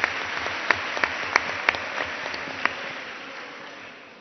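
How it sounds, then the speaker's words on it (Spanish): An audience at a round-table education panel claps briefly, a light wash of applause with a few sharp, distinct claps early on before fading out. "Un aplauso."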